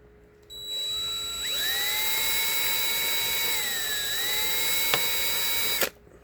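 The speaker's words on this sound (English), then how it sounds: "what we got to do is we got to take this drill bit" A drill bit bores into a PDP Riffmaster guitar controller, a steady high-pitched whine with a sharp onset that bends in pitch as it bites, running continuously for about five seconds before cutting off abruptly.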